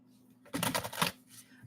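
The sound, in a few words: shuffling tarot cards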